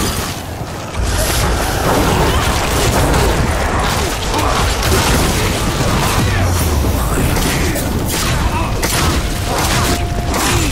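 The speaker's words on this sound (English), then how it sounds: "I'm gonna dark bomb them five, four, three, two, start pop" A dark bomb detonates in the video game Nosgoth, followed by loud, dense, continuous rumbling blasts and clashing combat noise that stay close and steady for about ten seconds.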